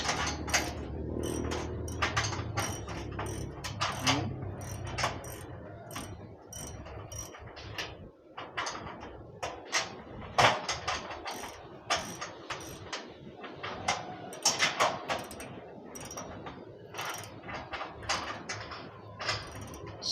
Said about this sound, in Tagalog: tapos gagamitan na ng ratchet para maipasok ng mabuti yung nut niya doon sa loob